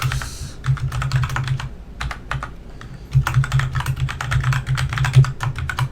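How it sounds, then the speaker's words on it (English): A loud mechanical computer keyboard clatters in dense, rapid bursts of sharp key clicks close to the microphone, with short pauses between runs of typing. "Apologies for my loud mechanical keyboard here."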